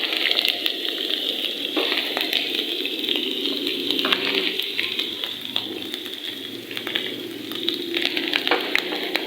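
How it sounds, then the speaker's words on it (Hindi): Vegetables frying in hot oil in a pan while making a saag tadka, a steady close sizzle with occasional crackles and stirring scrapes throughout, no voices. "इनको तकरीबन हम 1 मिनट के लिए फ्राई करेंगे ताकि इनका कच्चापन दूर हो जाए"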